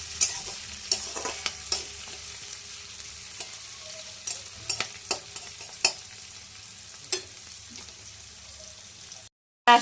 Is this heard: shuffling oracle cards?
no